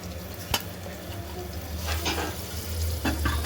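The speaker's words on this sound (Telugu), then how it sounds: "అల్లం వేగినాక టమాటా ముక్కలు వేసుకోవాలి" Tomato pieces dropped into ginger garlic paste frying in a pan for mutton curry, a close, continuous sizzle with brief stirring scrapes and a sharp clatter near the start.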